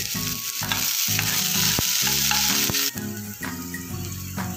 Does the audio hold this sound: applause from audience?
no